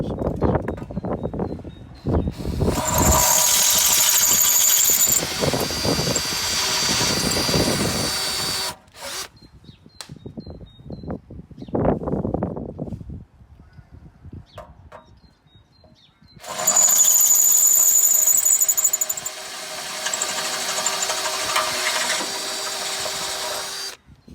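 Handheld power drill boring a hole for a rivnut in a car bumper, in several loud whirring bursts of a few seconds each separated by quieter pauses.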